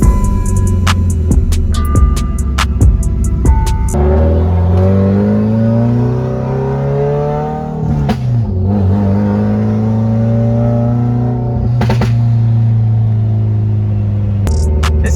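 A Subaru WRX with an FA20DIT turbo engine revs hard through a gear, then pulls away and accelerates in long rising sweeps on a road, loud and near, with a short drop as it shifts partway through.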